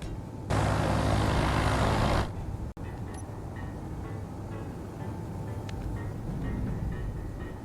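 A biplane's propeller engine drones steadily in Space Engineers, a constant low hum with a faint tonal whine, preceded by a short, loud burst of broadband noise near the start.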